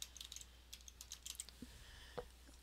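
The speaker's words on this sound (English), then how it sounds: "and start typing" Quick, light keystrokes on a computer keyboard as type is entered into a document, sounding as soft, close clicks in uneven bursts with short pauses and a single firmer tap near the end.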